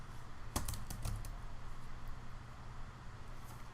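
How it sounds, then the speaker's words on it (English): Names being typed on a computer keyboard: a short burst of quick, close keystrokes early on, then fainter occasional taps over a low background hum, with no talking. "you're going to type their first name"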